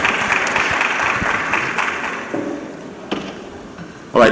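Audience applause at an employment summit in Lagos, a broad steady wash of clapping from a large crowd that thins toward the end, with a louder burst at the close.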